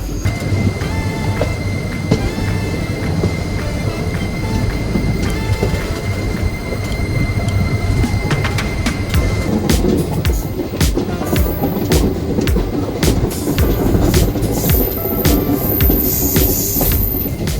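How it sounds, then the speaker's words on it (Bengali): The 15663 Silchar Express running on rails while slowly turning left and right, a loud continuous rumble with rattling and clanking wheel noise, heard close from on board. "ট্রেনটা একবার লেফটে টার্ন দিচ্ছে, দেন একবার রাইটে ইউ টার্ন দিচ্ছে, মানে টার্ন দিচ্ছে একটু একটু করে"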